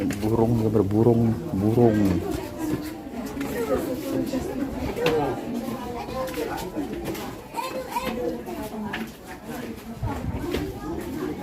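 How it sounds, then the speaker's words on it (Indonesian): Pigeons coo in low, repeated, throaty calls at Prambanan temple in Yogyakarta. The cooing is clearest at the start and then fades into a busy crowd of children and adults talking nearby. "Burung, dia burung."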